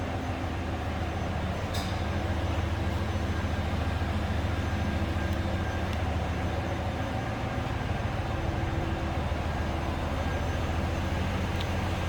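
A 1996 Buick Roadmaster Limited Collector's Edition idles steadily, heard from behind the car as a low, even engine hum with a constant rumble and no voices.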